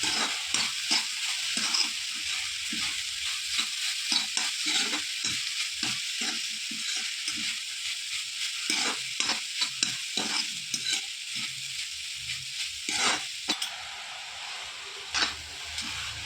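Banana flower masala thoran is stirred in a pan, a spatula scraping in repeated strokes over a steady frying sizzle, close and moderately loud with no talking.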